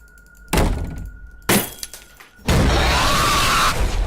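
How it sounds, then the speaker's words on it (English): Cartoon-style glass shattering effects crash in loud bursts, two sharp smashes followed by a sustained crashing, tinkling spill of breaking glass that fills the rest of the moment. "Sounds like they're breaking like 19 pounds of glass."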